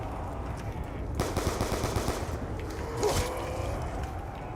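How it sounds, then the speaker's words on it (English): Rapid automatic gunfire in Call of Duty Black Ops 2 Zombies on the Nuketown map, bursts of dense crackling shots running through the whole stretch with a louder flurry near the end, set against steady game ambience. "I fired my first bullet."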